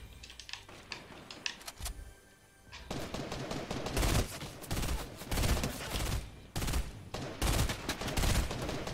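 Gunfire crackles in a Fortnite battle royale match, scattered sharp shots at first, then dense bursts of rapid automatic fire repeating in loud clusters.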